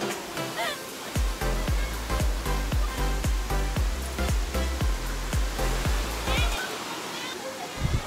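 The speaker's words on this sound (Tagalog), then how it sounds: "Mao ni siya ang Bigaan Falls guys." Begaan Falls in Indahag, Cagayan de Oro City, a steady, loud broadband rush of falling water heard up close, with rhythmic thumps throughout and a voice speaking over it.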